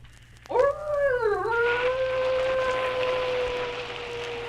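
A large dog howls as a Halloween sound effect: one long, close, loud wavering howl that dips in pitch, then holds a steady sustained tone for several seconds over faint background hum.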